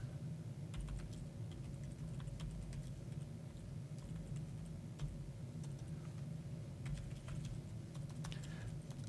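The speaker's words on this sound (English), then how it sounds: "I'm not used to typing emails while I'm live" Soft keyboard typing of an email on a computer, a steady patter of faint clicks and occasional sharper taps over a low background hum, with no voice over it.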